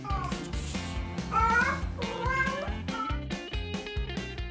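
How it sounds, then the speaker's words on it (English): A cat meows several times, its drawn-out rising and falling calls clearly audible over steady background music. "This cat got tired of hinting that her claws needed decent care and decided to take action."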